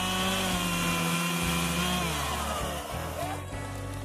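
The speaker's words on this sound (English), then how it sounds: "Here's my lesson with the chainsaw today." Chainsaw running in one steady, loud buzzing whine with slight shifts in pitch as the engine speed varies.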